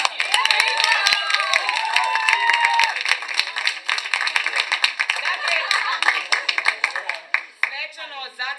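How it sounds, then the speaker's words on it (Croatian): A theatre festival audience applauds at the closing of the event, dense sustained clapping from a crowd with a few cheers, thinning out toward the end. "Aplauz."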